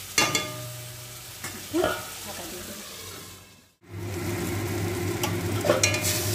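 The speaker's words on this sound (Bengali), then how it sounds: "এটাকে ভালো করে কষিয়ে নেব যতক্ষণ না তেল ছেড়ে যায়।" Spice masala with water cooking down for jackfruit kofta, a loud close sizzle and bubbling with spatula scrapes, briefly cut to near silence midway, then frying resumes steadily.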